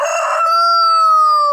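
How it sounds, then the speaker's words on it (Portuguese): A rooster on a small farm gives one loud, close crow, a single sustained call lasting about a second and a half. "tem um galo cantando ali, é que a gente tá no sítio"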